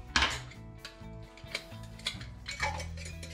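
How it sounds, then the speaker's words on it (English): A sealing lid goes onto a hot glass jar of homemade birch syrup, making a sharp metallic clink followed by a few light clatters and taps, soft against background music. "we put it into these jars, and while it's hot, I will put the sealing lid on"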